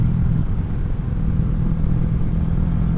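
A Kawasaki Vulcan 650 S motorcycle fitted with a CS Racing exhaust rumbles steadily while riding, its deep, throbbing engine note loud and close with no talking.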